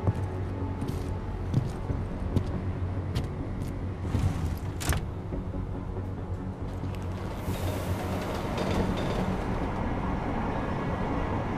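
A subway train ride in Deus Ex: Mankind Divided gives a steady rumble of rolling carriages with faint clicks and clatter, continuous and moderately loud throughout.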